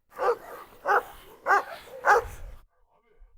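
A Cane Corso barks four times in an even rhythm, loud and close, followed by a brief low rumble and then quiet.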